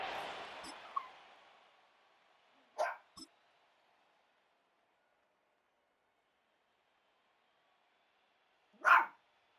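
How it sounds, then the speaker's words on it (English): A dog barks indoors: a couple of quick barks early on, then a single louder bark after a long quiet stretch, each short and fairly distinct against near silence. "Sorry if you hear a dog barking."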